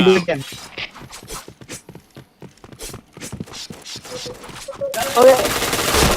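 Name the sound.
gunfire in PointBlank video game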